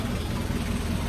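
Nissan QD32 diesel engine idling after a general overhaul, a steady low rumble heard close up and alone for about a second.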